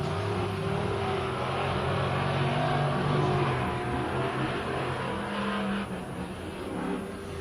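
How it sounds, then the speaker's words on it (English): V8 race trucks roaring past on a circuit, a continuous loud engine drone with rising and fading passes, dense and close with no talking. "You hear the roar of those V8 engines."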